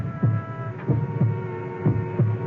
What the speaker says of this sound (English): It's my heart beating. I'm hearing my own heart.